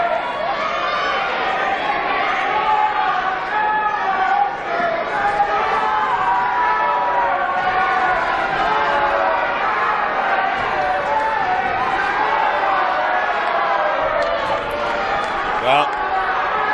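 A wrestling arena crowd jeers a wrestler, a dense, sustained roar of many voices with shouting and chatter that stays loud throughout.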